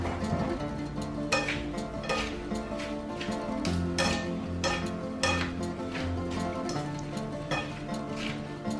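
A vegan tossed salad being mixed after vinegar is added, with soft clattering and stirring against the bowl under steady background music.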